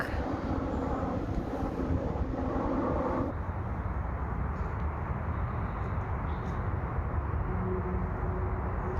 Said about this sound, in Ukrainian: А ось і летить літак.